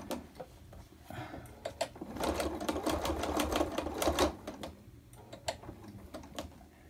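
A sewing machine stitching a quarter inch seam on a laptop bag, with quiet close rapid ticking bursts of stitching that speed up in the middle, then slow to scattered clicks.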